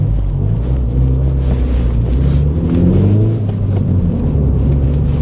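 A Suzuki Swift revving hard on the road, its engine droning loud and steady with rising harmonic pitch and heavy wind rumble, heard from a nearby car.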